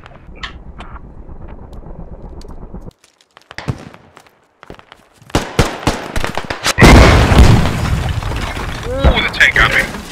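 In the video game Squad, a tank shell explosion lands with a loud, sudden blast followed by crackling debris and gunfire, with battlefield noise and talking around it.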